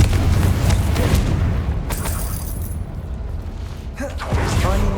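Confringo explosion spell in Hogwarts Legacy, a loud rumbling blast with crackling debris, sustained and booming, followed by fainter creaks and thuds as it settles.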